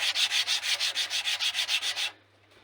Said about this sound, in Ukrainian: Добре, я це шліфую.